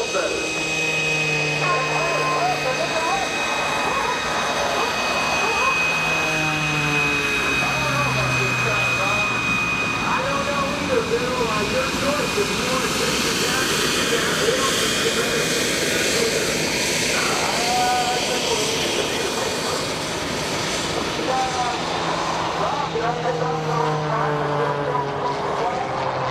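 A continuous aircraft engine drone roars overhead at an airshow at NAS Oceana, loud and steady throughout, with faint voices mixed beneath the noise.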